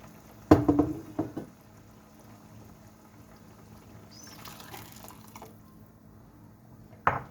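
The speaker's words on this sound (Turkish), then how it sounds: "suyumuzu katalım" Water pours into a pot of potato bulgur pilaf with a short loud splash and gurgle near the start, then a quiet bubbling simmer and one more brief splash at the end.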